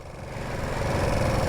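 A Kawasaki Ninja 125 motorcycle engine idles with a steady low rumble that grows slightly louder, close by, before stalling.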